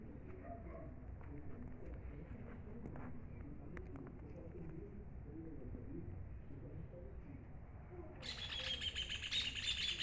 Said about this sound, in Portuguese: Ó, os passarinhos estão tudo felizes.